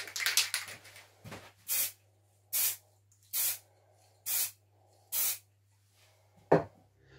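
A spray paint can lays a silver coat onto a few small parts in quick close bursts: a couple of early hisses, then five evenly spaced, sharp sprays of about half a second each, with quiet gaps between.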